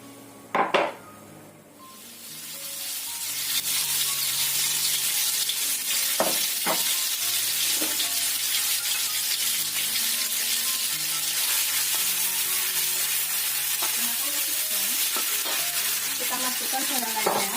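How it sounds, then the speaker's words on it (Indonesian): Three tablespoons of hot oil sizzle steadily as spices are sautéed, with occasional clinks of a utensil against the pan, after a brief clatter at the start. "Kemudian kita tumis bumbunya. Kita panaskan 3 sendok makan minyak."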